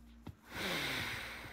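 A video game character gasps once, a short sharp breath followed by a longer breathy exhale, close and faint, with no talk.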